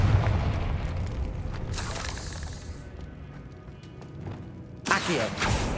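The Confringo blast spell in Hogwarts Legacy bursts twice, each a sudden, bright, crackling explosion followed by a fading rumble, over a low background bed.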